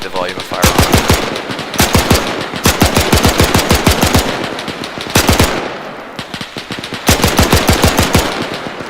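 Sustained automatic gunfire in Arma 3 rattles in long rapid bursts separated by short pauses, loud and close, with a distant voice faintly under the shooting.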